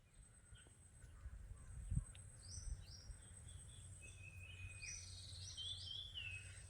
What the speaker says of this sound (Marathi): तो आता जो ओरडत आहे तो म्हणजे सुबक नावाचा पक्षी